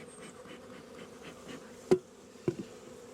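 Honey bees hum steadily in a full hive of about eight frames during a first spring check, a close, continuous buzz broken by two sharp knocks.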